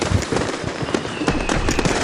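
Firecrackers pop in rapid irregular bursts on Tamil New Year, a loud crackling string of sharp bangs close by with no pause, faint voices underneath.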